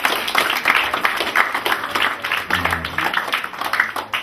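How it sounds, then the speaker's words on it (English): Audience applause for Dr. Hagos, a dense steady patter of many hands clapping at close range for about four seconds, with a few voices faintly mixed in. "Can we give him another round of applause?"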